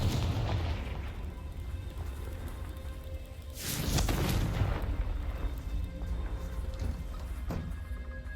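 Confringo fire spell exploding in Hogwarts Legacy, a deep booming blast over rumbling game ambience, with a smaller burst following and a faint pop later.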